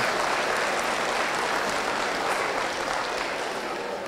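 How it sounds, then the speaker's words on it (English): Steady applause from a crowd at a youth fair market steer show in Polk County, a continuous dense patter of clapping that holds at an even level throughout. "Let's give these young exhibitors a nice round of applause."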